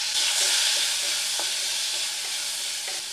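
Tomatoes frying in melted ghee over a low flame for a vegetable moong dal: a steady, close sizzling hiss broken by a few soft scrapes and taps as the pan is stirred, with no talking.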